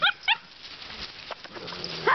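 Standard poodle puppies play close by, letting out a few short, high yips at the start and again at the end, with quieter scuffling and whimpery noises in between.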